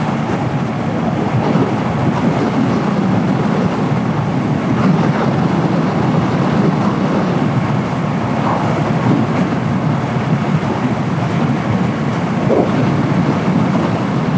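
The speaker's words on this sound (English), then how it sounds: "It's windy out here" Strong, steady wind buffeting a rider on a slow-moving motorcycle, a dense, continuous low roar and rumble filling the whole stretch with no pauses or voices.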